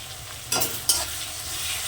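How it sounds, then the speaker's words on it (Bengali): Ginger garlic paste frying with softened tomato in a pan, a steady close sizzle broken by two quick scraping stirs of a spatula, no voices. "এবার আমি দিয়ে দিলাম একটু আদা রসুন বাটা আবার আমি হালকা করে একটু কষে নেবো"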